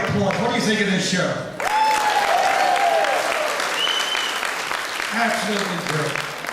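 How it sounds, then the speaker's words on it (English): Audience applause at an amateur theatre players' show, a loud sustained burst of clapping with crowd noise and cheering, running the full length under some faint voices. "Let me know by your applause."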